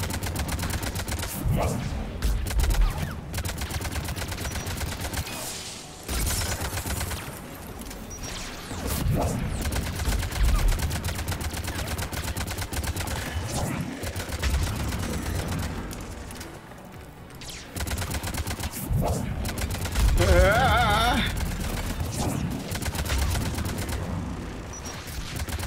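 Gunfire crackles in a Mass Effect 3 firefight, repeated bursts and single shots scattered across the scene at moderate loudness, mixed with impacts, game effects and brief voices.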